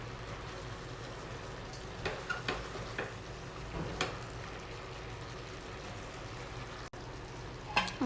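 Gongura leaves are stirred into a mixture in a frying pan, giving a quiet, steady sizzle broken by a few soft scrapes and taps of the spoon.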